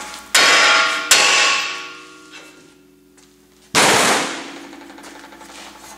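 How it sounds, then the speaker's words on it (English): A hammer strikes the steering knuckle of a Nissan Titan or Armada to free a ball joint: three loud, sharp metallic blows with ringing decay, two close together and a third after a pause. "Just going to give my knuckle a couple love taps to release a ball joint."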